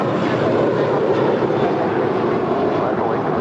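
An eight-year-old JetBlue Airbus A321 departing LAX for JFK, a loud steady jet roar sustained throughout without talk.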